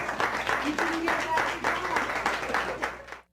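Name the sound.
audience applause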